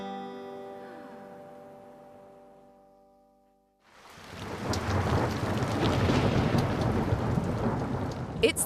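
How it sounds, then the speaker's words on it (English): Heavy mountain rain pours steadily as a loud, continuous roar with a thunder rumble, following a fading tonal sound that dies away before the downpour surges in. "it's raining so hard we can't even see the mountains"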